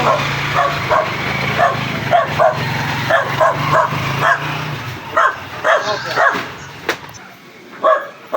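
Several guard dogs bark in close, repeated bursts with yips and whimpers, loud and near, tapering to a few scattered barks toward the end.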